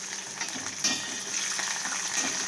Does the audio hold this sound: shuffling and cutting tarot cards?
no